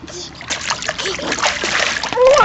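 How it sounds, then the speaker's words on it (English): A young child splashing water while swimming, close and lively splatters and sloshes that keep going throughout, with voices in the background and a brief high-pitched vocal sound near the end. "That was a good splash!"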